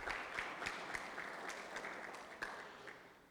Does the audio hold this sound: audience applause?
yes